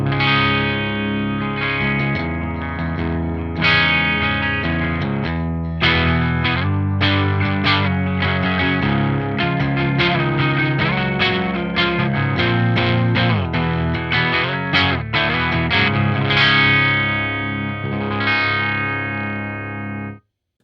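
Clean-channel electric guitar from a Schecter Sunset Triad 6 bridge pickup through a Mesa cab, strummed chords and picked notes ringing out steadily with some chorus-like shimmer and sustain, loud and close, no talking.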